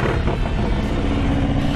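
A 2014 Harley-Davidson Switchback motorcycle engine, fitted with an upgraded primary cover, rumbles loud and close in a steady, continuous low growl with no voices.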